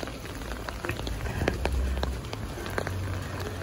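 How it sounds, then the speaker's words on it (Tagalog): Steady rain falls during a walk outdoors, giving a dense, even patter with scattered louder drips close by and a low rumble underneath, with no talk. "Feel good na ulan."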